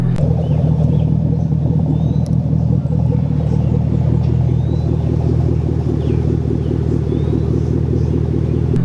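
A 2015 Camaro SS 1LE V8 with cold air intake and Hooker Blackheart catback exhaust idles with a deep, steady, throbbing exhaust rumble, loud and close, with no talking.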